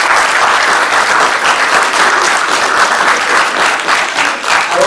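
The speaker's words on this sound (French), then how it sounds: "Merci beaucoup, je crois qu'on peut les applaudir." Sustained, loud applause from an audience at a French business event, a thick continuous wash of many hands clapping close by with no voices over it.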